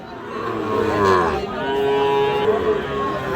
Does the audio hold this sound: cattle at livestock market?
yes